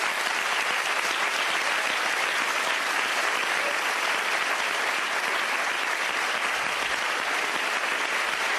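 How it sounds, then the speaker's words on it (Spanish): Sustained, dense applause from new government members giving outgoing Spanish health minister María Luisa Carcedo a standing ovation at a swearing-in ceremony, steady and loud throughout with no pauses. "Ovación de los nuevos miembros del Gobierno a María Luisa Carcedo, la ministra de Sanidad saliente"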